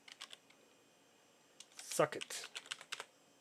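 Quick keys are tapped on a computer keyboard while using Unreal Engine, sounding as light clicks in short bursts; a person talks over part of the typing.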